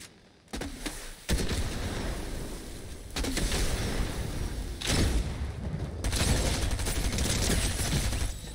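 Prime Shotgun blasts in Fortnite, booming heavy shots in a chaotic firefight, with dense continuous gunfire and explosions layered loudly throughout.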